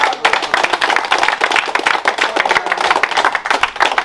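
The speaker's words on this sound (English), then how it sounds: "So we'll give the teacher a round of applause." An audience gives a round of applause for a teacher at an award presentation in Trench Town, Jamaica: loud, close, crisp clapping from a modest group, irregular and sustained throughout.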